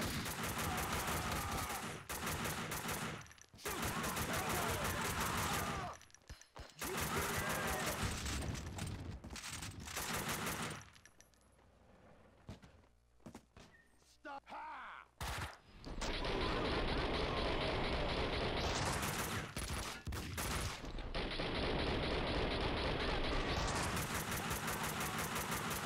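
Gunfire in the video game Max Payne 2, long dense bursts of rapid automatic shooting that fill the scene at close range, broken by short pauses and one quieter stretch before heavy firing resumes.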